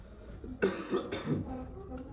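A few short, rough coughs close by, with a throat-clearing rasp between them.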